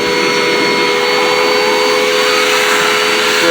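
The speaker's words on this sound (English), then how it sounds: "This is also a budget vacuum." A budget household vacuum cleaner runs at full power, a loud, constant whine and rushing airflow with steady tones held throughout, with no voices.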